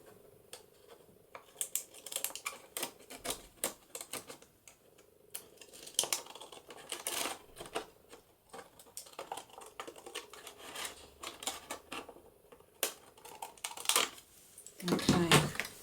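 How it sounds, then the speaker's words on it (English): Pinking shears cut along the bottom edge of paper in an altered-book papercraft project, giving a run of close, crisp snips and paper rustles throughout, with a rougher crunch of handling near the end. "I'm going to get my pinking shears and cut along the bottom of that"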